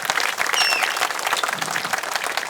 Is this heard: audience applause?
yes